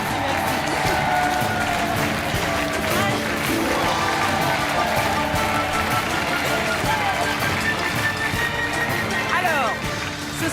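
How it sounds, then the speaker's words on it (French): Studio audience applause on the French TV game show Money Drop: a sustained, dense wash of clapping from a crowd that holds steady for about ten seconds, with voices mixed in. "On vous laisse sortir sous les applaudissements du public."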